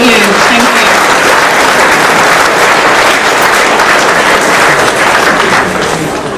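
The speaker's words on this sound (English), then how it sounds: "those lovely ladies deserve another round of applause, don't you?" Sustained audience applause at a live performance event in Coventry, a dense steady wash of clapping from a large crowd that tapers slightly at the end, with no speech over it.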